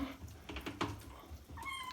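A cat meows during a bath while water is poured over it. A clear, drawn-out meow rises near the end over splashing and handling noises.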